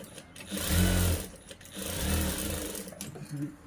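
Electric sewing machine stitching along the neckline of a blouse, running in two sustained bursts of motor whir and rapid needle clatter with a brief pause between.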